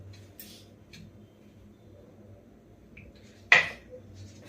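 A knife chops once through steamed kothimbir vadi, a coriander gram-flour roll, giving a single sharp thud against the board amid a quiet kitchen with faint scattered clinks.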